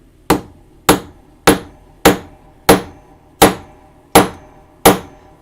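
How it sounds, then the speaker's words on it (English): A chasing hammer strikes metal pipe work eight times at a steady, even pace, each blow a sharp, close, ringing tap that fades quickly, with no talk. "So pull out our chasing hammer"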